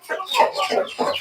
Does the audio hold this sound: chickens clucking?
yes